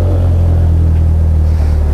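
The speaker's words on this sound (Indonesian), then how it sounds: "sekarang gue mau coba nyalain, kita dengerin suara mesinnya" A Vanderhall Venice GT engine with twin exhausts runs with a deep, steady rumbling hum and a slight shift near the end, loud and close, no voices.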